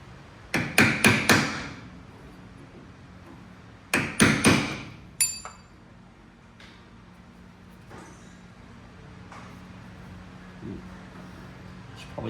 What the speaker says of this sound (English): I believe you're supposed to hammer it out